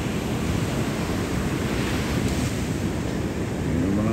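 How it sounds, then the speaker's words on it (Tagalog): Sea waves roll and wash continuously, a steady broadband surf roar with some wind buffeting on the microphone, no distinct breaks and no speech. "Yun yung mga alon ng dagat"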